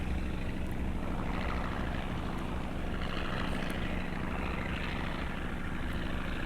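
A small single-engine propeller airplane in flight, its engine and prop droning steadily and loudly throughout with a constant broadband rush of wind, no voices.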